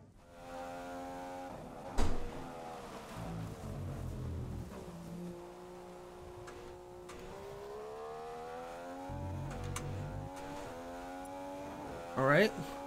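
A Formula 1 car screams through a flying qualifying lap in the F1 2015 racing game at the Malaysia Grand Prix, its high-pitched engine rising and falling with gear changes across the whole stretch, a steady loud drone with brief downshift bursts.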